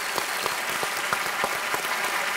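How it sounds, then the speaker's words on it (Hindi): A studio audience claps steadily to welcome a contestant on the Indian quiz show Kaun Banega Crorepati, with dense, even applause filling the moment and no voices over it. "आइए एक बार फिर उनका जोरदार तालियों के साथ स्वागत करें"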